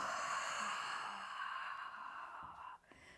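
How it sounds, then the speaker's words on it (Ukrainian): Slow mouth breathing during an evening beginner yoga relaxation, a long airy exhale filling most of the span, close and soft, then fading to quiet with no talk. "робимо вдих і видих ротом. І ще раз вдих і видих ротом."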